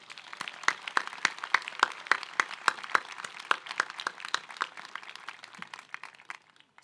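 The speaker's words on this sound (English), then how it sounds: "graduates, let's give them a round of applause" An audience at a college commencement ceremony gives a round of applause, dense rhythmic clapping from many hands sustained at even loudness before tapering off near the end.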